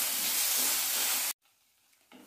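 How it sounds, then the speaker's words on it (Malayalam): Tomatoes drop into hot oil for a Kerala-style chicken curry, a loud dense sizzle that cuts off abruptly, then a quieter low frying hiss resumes. "ഇനി നമുക്ക് ഇതിലേക്ക് ഈ തക്കാളി ഇട്ട് വെക്കാം"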